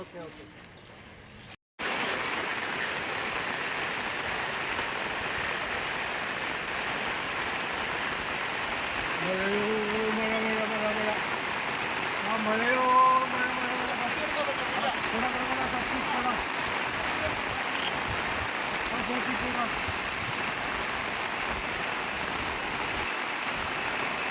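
Steady rain hisses continuously throughout, with people on a morning walk talking in the middle of it.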